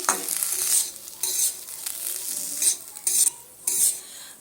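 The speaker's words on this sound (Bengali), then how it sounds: "এবার এই সুজির সঙ্গে ভালো করে এইভাবে করে মিশিয়ে দিচ্ছি" Semolina being stirred in a pan with chopped green chilli and coriander leaves, a spicy sooji dish; a spoon scrapes and stirs in several distinct bursts over a soft background sizzle, close and fairly loud.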